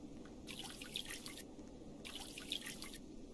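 Water drips in the Roblox Mount Everest roleplay game, two soft bursts of dripping and trickling about a second and a half apart over a quiet background hum.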